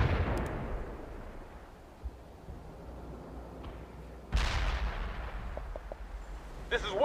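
Artillery barrage in the World in Conflict video game, two heavy booming impacts about two seconds apart with long rumbling decays and scattered smaller pops, loud and close.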